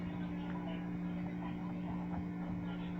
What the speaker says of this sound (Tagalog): nag-aircon po kasi ako.